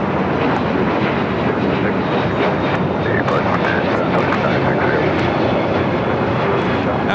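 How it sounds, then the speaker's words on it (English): A Spirit Airlines Airbus A321neo takes off from LAX for Columbus, Ohio, a dense, steady jet rumble and roar filling the whole stretch at constant loudness, with a voice faintly underneath. "That was Spirit Airlines 2396 taking off to Columbus, Ohio on the A321neo"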